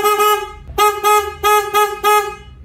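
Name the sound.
motorcycle horn honking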